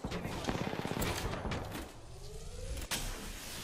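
Rapid gunfire from an Apex Legends match, a dense burst of shots up close that thins into clattering mechanical noise and a brief sharp bang near the end.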